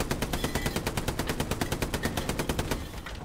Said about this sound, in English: We're being shot at on the garrison.